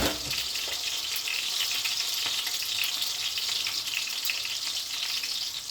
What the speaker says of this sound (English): that's sizzling a bit